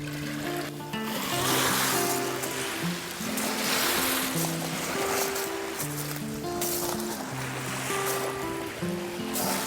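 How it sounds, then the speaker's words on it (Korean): Seawater laps against a shell-strewn shore on Gukhwado island near Dangjin, South Korea, making a continuous washing, splashing surge that is fairly loud and stays steady throughout, mixed with a tonal melody in the background. "이렇게 찰싹거리는 물소리"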